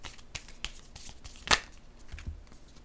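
A deck of oracle cards is shuffled during a tarot-style reading, giving a series of soft riffling and flicking bursts with one sharper, louder riffle midway, close up and without talk.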